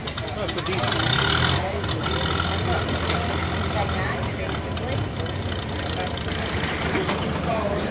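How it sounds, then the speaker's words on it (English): An engine driving a circle saw mill at a fall festival runs at a steady, loud rumble, being brought up to speed, with people talking over it throughout. "I'm unsure of the horsepower on this motor on this engine. So bringing her up to speed."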